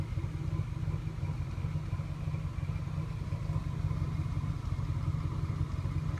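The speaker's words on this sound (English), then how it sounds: "This is just starting the vehicle up, letting it run." A car engine idles steadily right after being started, a continuous low rumble with a faint mechanical clatter, close and even throughout, no one talking; the vehicle has a suspected bad fuel pressure regulator and is blowing smoke.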